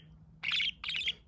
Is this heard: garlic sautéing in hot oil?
no